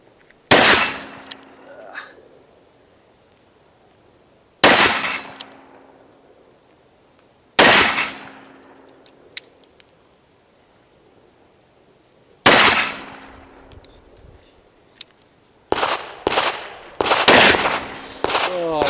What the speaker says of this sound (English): let's get another 6 rounds downrange. 300 grain 44 Magnum.